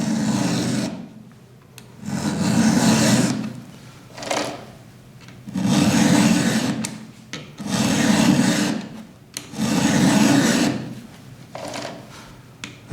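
A hand file rasps rhythmically across chainsaw chain teeth in five or six long, steady strokes with brief pauses between them, close and fairly loud with no talking.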